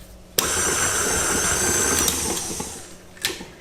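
An electric mixer beating shortbread dough switches on abruptly and whirs steadily for about two seconds, then winds down, with a brief second burst near the end.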